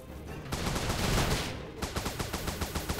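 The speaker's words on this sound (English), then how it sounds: "Let's get above him and start shooting down at him." Rapid video-game gunfire in Starbound aimed at the Bone Dragon boss: a dense sustained burst, a short lull, then a steady rhythm of repeated shots, loud and close.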